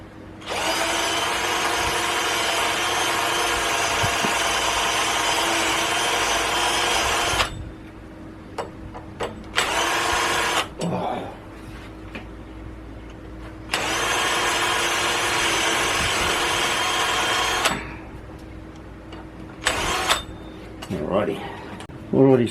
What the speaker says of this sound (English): So I'll drill that out a bit.